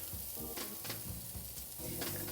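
Carrot added to softened onions in a pan for a chicken pot pie filling, producing a continuous crackling sizzle with light stirring movement throughout.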